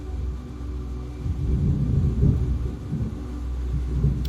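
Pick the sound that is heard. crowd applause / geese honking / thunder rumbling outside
thunder rumbling outside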